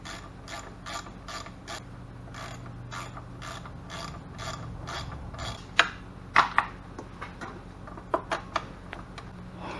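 A ratchet loosening 10mm bolts on the airbox of an EZGO golf cart engine, with rapid, close, rhythmic clicking and a few sharper knocks and clanks toward the end, heard alone.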